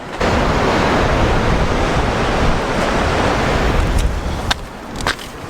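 Ocean surf rolls steadily against the sea stacks along the California coast while strong wind buffets the microphone, a continuous loud roar with a few brief gusty spikes near the end.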